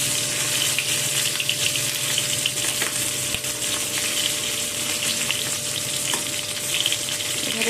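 Fish egg fritters sizzle in hot oil in a kadai, a loud, dense, even crackle that fills the whole stretch with occasional small clicks and no talking.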